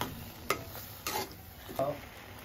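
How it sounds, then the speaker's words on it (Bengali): Blended banana peel paste fries in a pan as a utensil stirs it, giving three distinct scraping strokes over a faint, low sizzle. No one speaks. "এখন আমরা এটা একটু ভাজা ভাজা করে নেব।"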